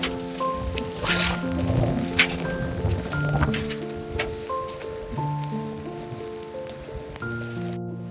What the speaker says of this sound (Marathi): खूप सुंदर पाऊस चालू आहे